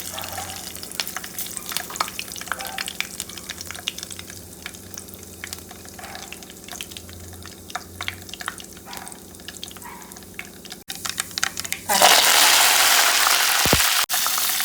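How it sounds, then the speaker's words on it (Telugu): Cumin and mustard seeds crackle and sizzle in hot oil in a pan on the stove, a steady busy frying hiss with small pops throughout, then a sudden louder burst of sizzling near the end as something more goes into the pan. "ఆయిల్ హీట్ అయింది. జీలకర్ర ఆవాలు,"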